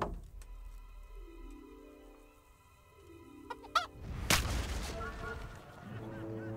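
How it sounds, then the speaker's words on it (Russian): Rooster clucks and squawks in Kingdom Come: Deliverance, sharp and close, followed by a loud burst of noise and a rushing wash beneath ambient game sound. "Петуха убил."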